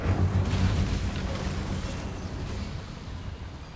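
A game's Bombarda spell sets off a booming explosion that rumbles loudly at the start, then trails into a decaying roar with no talk over it.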